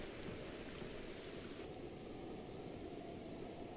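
Rain falls in the video game Zelda: Breath of the Wild as a dense, even hiss that stays soft and continuous throughout, with no voices over it.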